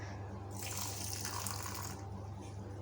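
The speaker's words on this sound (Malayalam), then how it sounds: "ഇനി ഇതിലോട്ട് ഞാൻ 1 ടേബിൾ സ്പൂൺ വെള്ളം ഒഴിച്ചു കൊടുക്കുന്നുണ്ട്." A tablespoon of plain water is poured into a cup while making cappuccino at home, a brief soft splashing pour of about a second and a half over quiet background hum.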